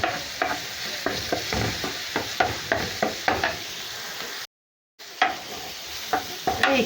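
Onion and garlic fry in a pan under constant stirring, rhythmic scraping strokes repeating over a soft sizzle, close and clear, with a brief silent gap before the stirring resumes.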